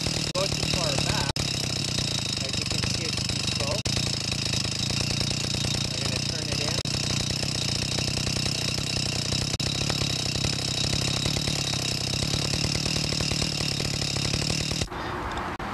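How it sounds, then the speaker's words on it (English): A 2-stroke engine on a Chinese stand-up scooter idles after a carburetor adjustment, giving a steady, buzzing drone that runs unbroken for about fifteen seconds before cutting off abruptly at the end. "So I don't quite want it to idle that fast, so let's screw it about a turn."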